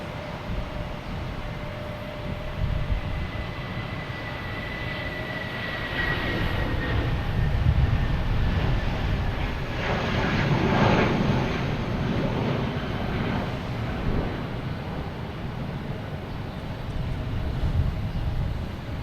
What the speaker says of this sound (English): We got American heading to Philadelphia at A319.